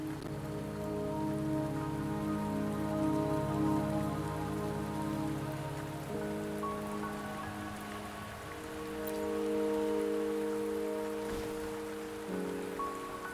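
Rain pours down in Wuthering Waves, a soft continuous patter of drops beneath a sustained musical score, with no voices.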